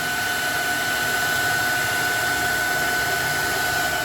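A blower roars in a steady, unbroken whoosh of air, loud and close, with no pauses, drying the water-soaked controller of an NWOW EMC golf cart.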